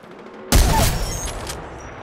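Gunfire from the video game Apex Legends breaks out abruptly after a quiet moment as a loud, dense burst of rapid shots lasting about a second, then tails off into echoing noise.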